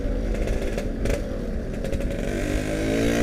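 A Yamaha RX King two-stroke motorcycle engine runs steadily close by on a road, with a raspy, buzzing idle and a few brief revs and rattles.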